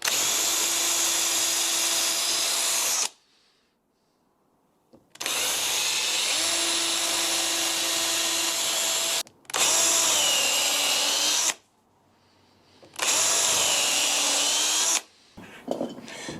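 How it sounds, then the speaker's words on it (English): A power drill whines steadily through a 2x4 wooden guitar body in four long bursts, with quiet pauses between each run. "So I'm going to drill some holes all the way through"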